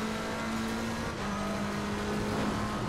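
A McLaren 720S GT3 race car in Assetto Corsa Competizione holds a steady, loud engine drone at high revs on a mountain circuit, continuous and close throughout with no pauses.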